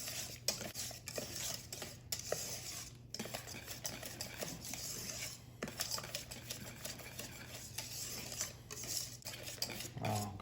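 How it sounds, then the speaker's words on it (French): Butter being stirred into hot pastry cream with a utensil, a steady run of soft scraping and clinking strokes against the pot, close and fairly quiet, with no talking. "40 grammes de beurre, que l'on va mettre dans la crème chaude et on va mélanger"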